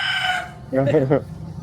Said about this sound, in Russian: А тут вон курочка. Свежая курочка.